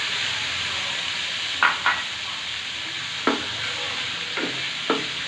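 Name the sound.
liver sizzling and stirred in a small pan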